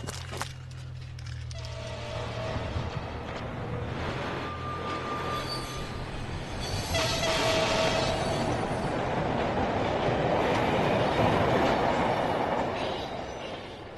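Train rolling along rails, a rumbling, clattering passage that swells louder in the second half with a metallic wheel squeal and a steady wash of noise.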